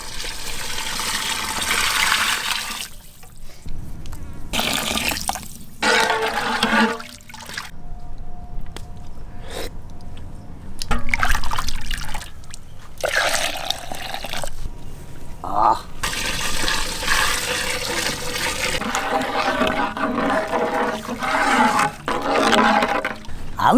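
Water added to a big pot of mutton leg biryani, splashing and trickling in bursts with pauses, while someone talks over it.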